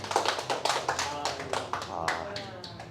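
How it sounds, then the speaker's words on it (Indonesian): A church congregation claps during a sermon, a burst of loud, close hand claps that quickly thins into scattered slaps and fades. "maukah kita berikan tepuk tangan buat Tuhan?"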